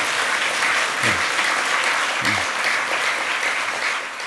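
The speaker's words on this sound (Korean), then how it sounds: "박수 또 한 번 더 합시다" An audience at a Korean Buddhist gathering applauds with a steady, dense, full-room clapping that holds evenly throughout, with no voices over it.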